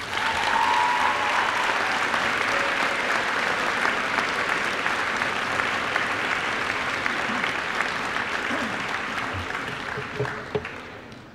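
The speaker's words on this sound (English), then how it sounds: "Juniors, let us applaud the class of 2018 one last time" Sustained audience applause at a 2018 high school awards ceremony, honoring the graduating class; dense steady clapping fills the room for about ten seconds before tapering off near the end.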